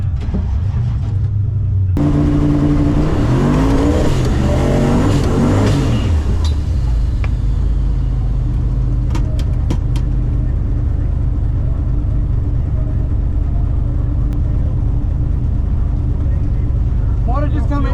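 An LS-powered Holden HQ wagon launches on a drag run, its V8 revving hard and rising through the gears close by, then fading into a lower rumble as it pulls away, with people talking nearby.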